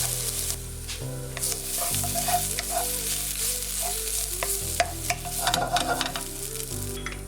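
Onions fry hard in oil with a cinnamon stick and cumin seeds, giving a steady close sizzle with crackles and spoon scrapes while being browned for chicken dopiaza; a low background hum runs underneath.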